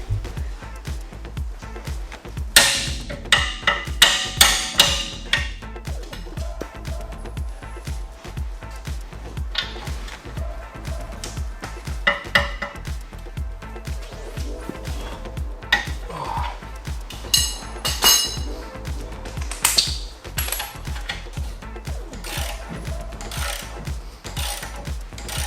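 Mechanic working on a tight hub nut of a VW Scirocco R, with repeated metallic ratcheting, clanks and clatter of tools in uneven bursts, close and fairly loud.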